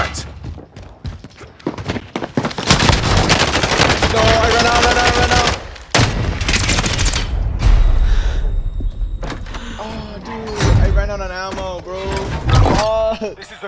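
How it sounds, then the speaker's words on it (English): Rapid bursts of gunfire from a shooter video game crackle close and loud, with a shouting voice and in-game sound effects rising over and between the volleys. "They're shooting at me! Contact! Setting Contact! Enemy contact."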